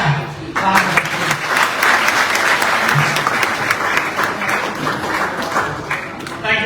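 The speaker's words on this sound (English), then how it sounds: "deserves a better round of applause" A loud, dense round of audience applause at an anniversary ceremony, steady clapping filling the room with some voices mixed in.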